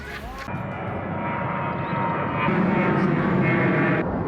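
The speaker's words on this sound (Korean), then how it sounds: "비행기 소음이 심각한 상황" Airplane passing low over a lakeside park in Seoul, a loud, continuous broad roar that swells slightly as it flies overhead.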